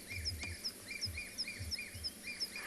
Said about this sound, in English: I was listening out to the birds.